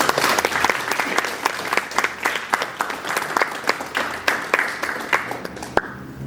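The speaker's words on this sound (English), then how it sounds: "thank you, Quinn, for the applause" Sustained audience applause at a student government general body meeting, steady crowd clapping with sharp individual claps standing out throughout, holding at an even level until it tapers near the end.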